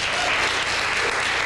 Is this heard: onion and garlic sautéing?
no